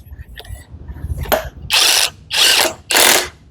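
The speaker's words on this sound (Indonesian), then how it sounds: "Oke, setelah masuk sampai dalam, lalu akan kita impact. Sudah aman? Nah, kita impact. Ini menggunakan impact." Impact wrench driving bolts on a stroked 2.8-litre BMW E36 323i engine short block, three loud rattling bursts of about half a second each after a few quieter clicks, with voices in the background.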